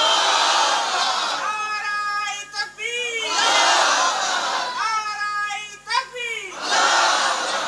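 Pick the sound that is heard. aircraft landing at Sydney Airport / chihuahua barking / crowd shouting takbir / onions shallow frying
crowd shouting takbir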